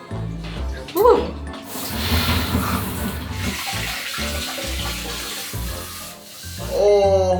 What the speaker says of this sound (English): so that bidet is firing.